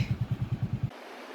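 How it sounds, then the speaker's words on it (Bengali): Motorcycle entering Lal Kankra beach near Mandarmani, its engine thumping in a quick even pulse of about nine beats, close and fairly loud, before cutting off abruptly. "এই যে আমাদের বাইক"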